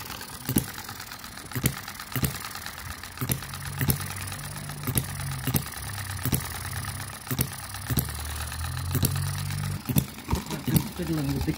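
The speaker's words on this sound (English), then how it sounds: "just starting the engines and running them, enjoying the sound" Several small model hit and miss engines run together with sharp periodic firing beats about every second, interleaved with a low mechanical hum, close and moderately loud.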